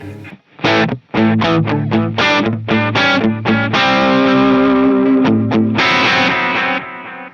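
A distorted electric guitar plays choppy chords, then holds sustained notes that smear and repeat through a warm, murky bucket brigade delay with regenerating, lingering echoes.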